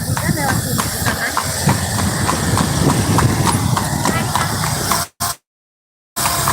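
Horse hooves clip-clop in a steady, even rhythm on the road as a bendi horse cart moves around Jam Gadang, with people talking over the hoofbeats before the sound briefly cuts out.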